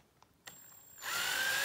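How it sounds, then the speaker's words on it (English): A power drill with a 3/8 inch bit starts drilling into a wooden display base for a scale model aircraft: a couple of light clicks, then a sudden loud, steady high whine close by. "Now I don't want to drill all the way through."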